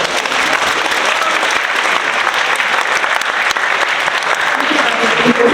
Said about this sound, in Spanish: Tengo un aplauso, por favor, chicos.